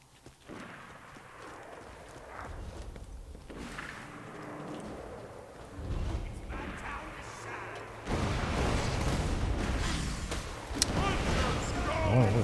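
An enemy fires a rocket launcher in Borderlands, with repeated booming blasts and rumbling impacts over dense, noisy combat sound that grows louder and more continuous toward the end; no talking.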